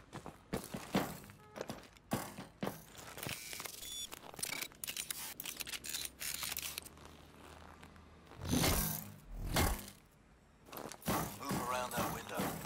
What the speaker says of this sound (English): Mag grips on. Up the wall.